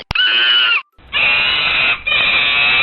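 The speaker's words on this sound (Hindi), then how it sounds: "उसे दर्द हो रहा था और वो दर्द के मारे चीख रहा था।" A sound effect of a monkey screaming in pain plays in a children's Panchatantra story. It is made of loud, harsh, sustained shrieks: one short cry, a gap, then a longer scream broken by a brief dip.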